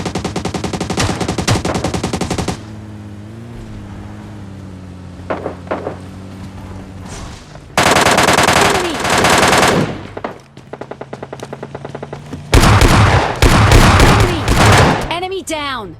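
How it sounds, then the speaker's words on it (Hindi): Bursts of rapid MK14 rifle fire in a battle royale mobile shooter, loud repeated volleys separated by quieter gaps with faint game ambience and player voices chattering between shots. "इधर से काफ़ी साउंड आ रहे थे फायरिंग के"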